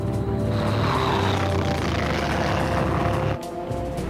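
Heavy aircraft engines drone in a WWII battle scene from the 1943 Battle of Kursk, a dense, continuous roar with a thick low rumble that dips briefly near the end, with no voices.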